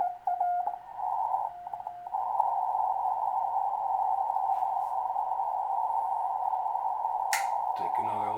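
Receiver audio from a homebrew 40-metre CW transceiver with the RF gain turned down: a steady, clean tone holds almost continuously over a quiet hiss, with a brief click near the end.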